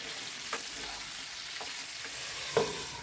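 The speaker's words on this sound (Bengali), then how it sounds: "লবণ দিয়ে এটাকে ভালো করে নেড়ে চেড়ে নিচ্ছি" Vegetables with salt being stirred in a hot pan for a chicken curry, a faint steady sizzle with a few soft scrapes and taps of the spoon against the pan.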